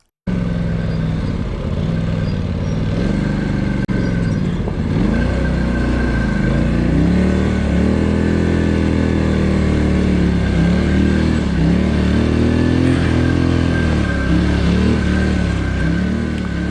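A Polaris Sportsman ATV engine braking on a steep snowy downhill trail, a continuous loud close drone with wavering pitch as revs rise and fall, rear tires locked, no talk.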